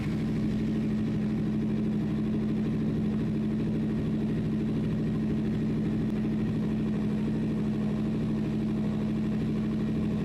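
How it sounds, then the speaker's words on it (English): A motorcycle engine runs steadily at idle for several seconds after an oil and filter change, priming the new oil filter; a constant low, even hum with a steady tone, close and alone with no talking. "just start the engine for a few seconds to prime the oil filter"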